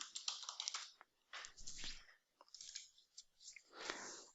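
Soft, quiet clicks of typing on a computer keyboard come in short irregular bursts with brief pauses between them, close and faint.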